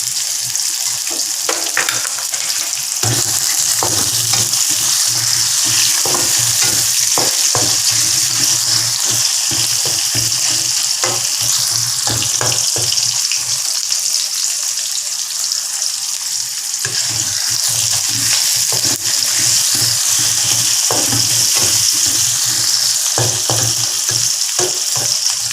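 Oyster mushrooms and onion stir-fried in a pan, a loud, steady sizzle and hiss broken by repeated scraping and stirring strokes, close up, with no talking.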